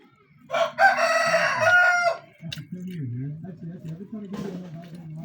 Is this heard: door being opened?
no